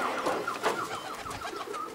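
Several racing pigeons coo and call close by at a club loft during a homing race arrival in Odolanów, Poland, a steady overlapping murmur of throaty coos with soft wing and perch noises throughout.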